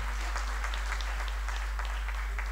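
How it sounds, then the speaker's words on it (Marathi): Applause at a teachers' awards ceremony in Kolhapur honours women teachers: the hall fills with continuous, even clapping from a large crowd, with a low electrical hum underneath. "या सर्व कर्तबगार महिलांसाठी, शिक्षिकांसाठी एकदा आपण जोरदार टाळ्या वाजवूयात."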